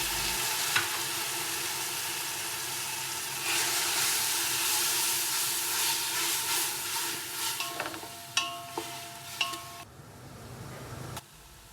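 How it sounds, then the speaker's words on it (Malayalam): Onions with a ginger, garlic and green chili paste sizzle and hiss in a pan while being sautéed for a meat rice dish, the steady frying noise broken by scraping stir strokes and clinks near the end, with no speech. "നമുക്ക് അതിലിട്ടിട്ട് ഒന്ന് വഴറ്റിക്ക് കൊടുക്കാം കേട്ടോ. ഇഞ്ചി, വെളുത്തുള്ളി, പച്ചമുളക് അരച്ച പേസ്റ്റ് നമുക്കിതിൽ ഒഴിച്ചു കൊടുക്കാം കേട്ടോ."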